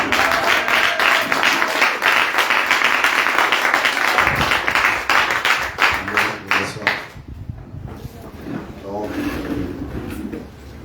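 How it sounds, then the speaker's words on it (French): A church congregation applauds and cheers during a Sunday service, loud dense clapping that thins out into scattered claps, with people talking underneath. "donnez une belle acclamation au Seigneur"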